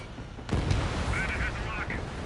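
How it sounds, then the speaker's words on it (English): A missile fired from a jet fighter in Ace Combat 7, an abrupt launch thump at about half a second followed by a steady roaring rush of the engine and brief warning tones, quiet overall. "Missile launched."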